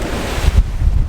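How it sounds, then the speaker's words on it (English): Ocean waves rolling onto the shore at Landguard Point, Felixstowe, a loud close rush of surf heavily buffeted by wind noise across the microphone. "just capturing those waves"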